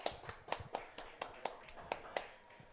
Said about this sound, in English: Fans are clapping it up.